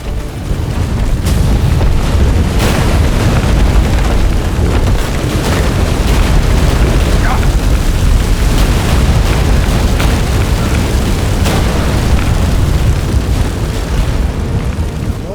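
A game earthquake from The Witcher 3: Wild Hunt: a loud, steady deep rumble with crashing booms and crackling debris throughout, no voices.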